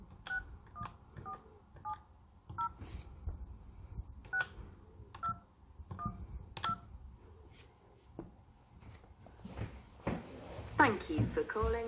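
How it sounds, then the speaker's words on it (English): Touch-tone dialing beeps from an Avaya J139 desk phone as an office number is keyed in: a dozen short, evenly spaced tones heard close up with faint handling clicks, ending in a brief burst of line noise. "So first of all, I'm going to phone our office number."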